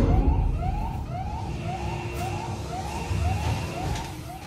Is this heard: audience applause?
no